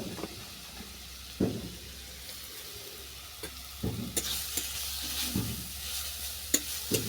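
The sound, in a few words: grated radish frying in ghee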